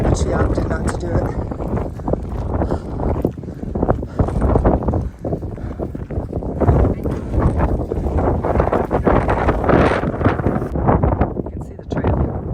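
Strong wind gusting across a mountain trail on Mt. Pierce and Mt. Washington, a steady loud roar buffeting the microphone for the whole stretch, with a person talking underneath.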